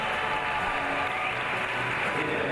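Crowd applauding a climber at the IFSC Climbing World Championships lead semi-final in Gijón, a dense, steady wash of clapping and cheering that fills the whole stretch without pause.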